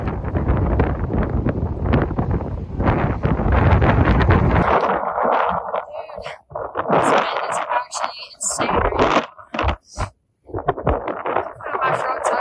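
Strong gusts buffet the microphone on a steep, exposed section of the Appalachian Trail in North Carolina, roaring loudly for several seconds before easing into intermittent gusts while a person talks.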